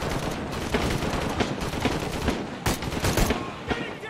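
Rifle fire in the video game Shadow of the Tomb Raider, rapid bursts of shots with sharp cracks in irregular clusters over a busy combat background, with no talking.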